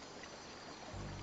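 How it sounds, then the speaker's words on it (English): Steady rushing stream water from the Higurashi game's village setting, a continuous broadband wash that swells slightly louder near the end, heard alone without talk. "I love the sound of rushing water."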